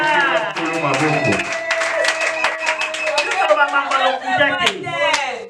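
A church congregation claps in quick rhythmic bursts while voices shout and sing acclamations over the clapping, loud and close throughout.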